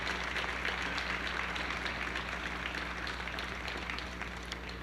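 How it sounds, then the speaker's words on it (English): Audience applause at a NASA street renaming ceremony honoring the Hidden Figures, a steady dense wash of many hands clapping that holds for about five seconds and tapers slightly at the end, with no voices over it. "That deserves applause as well."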